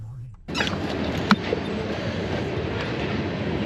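A train rolls past a campsite near Banff National Park, a sudden onset into a continuous broad rumble and rattle of rail cars, with a sharp clank partway through, fairly faint and steady.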